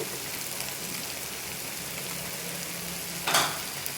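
Tomato and dried prawn curry cooks in hot oil with a steady, close sizzle throughout, plus one brief louder scrape as it is stirred near the end.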